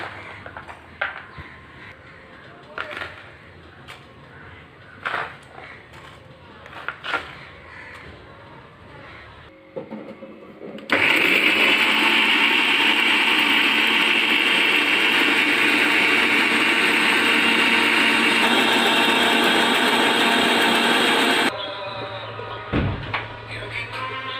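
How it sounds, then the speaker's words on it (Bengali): An electric mixer grinder whirs loudly and steadily for about ten seconds as it grinds garlic, ginger and dried chillies into a paste, starting and stopping abruptly between quieter kitchen clatter. "এবারে মিক্সির বাটিতে দিয়ে মশলা করে নিচ্ছি"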